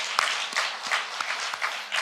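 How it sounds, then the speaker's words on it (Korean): Applause from an audience during a church interview program, brisk clapping with individual sharp claps standing out over a continuous patter. "박수 박수 박수."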